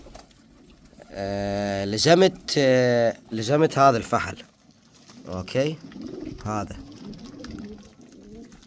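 Pigeons coo in rooftop cages under a man's close, loud talking, their low calls mixing with his voice throughout.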